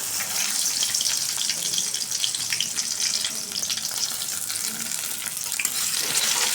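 Onion, four small dry chillies and two bay leaves fry in a pan with a loud, constant crackling hiss, close and unbroken throughout.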